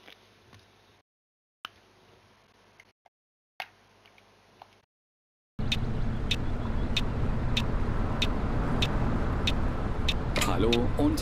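Coach bus driving along a German autobahn route toward Dortmund in Fernbus Simulator, a steady loud engine and road rumble with regular ticking, starting abruptly after quieter choppy sounds.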